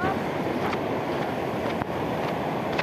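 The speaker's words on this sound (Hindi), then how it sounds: "ऊपर से दिखाऊंगा आप लोगों को कैसे पानी आ रहा" River water flows steadily, a dense broadband rush heard close and loud throughout, mixed with wind buffeting on the microphone and no talk.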